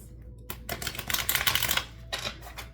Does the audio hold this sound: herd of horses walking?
no